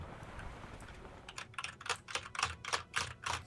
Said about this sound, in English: Are you punching your keyboard?